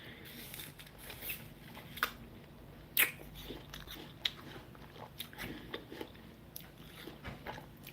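Someone bites into a crunchy apple and chews it close to the microphone, with irregular sharp crunches and snaps over soft, wet chewing.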